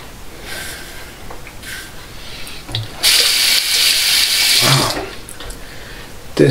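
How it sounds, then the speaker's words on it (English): Running tap water rinses a single-edge razor, a close, steady splashing rush that swells louder for a couple of seconds in the middle before settling back. "Wash the razor out"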